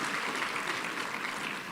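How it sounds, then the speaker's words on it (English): Dense, sustained clapping from a gala awards dinner audience, a steady roar of many hands at even loudness throughout, with no voices over it. "Yes, we can give them a round of applause."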